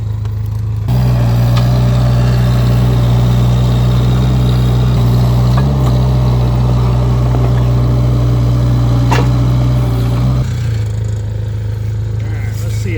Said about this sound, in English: so that means I can bury this auger